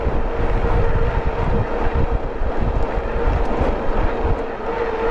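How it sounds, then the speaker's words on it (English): Strong, steady wind roars and buffets the microphone as a rider heads into a headwind on a JASION X-Hunter folding e-bike during a winter ride, a constant loud rumble with no speech. "Hard to do anything when that wind blowing right on you."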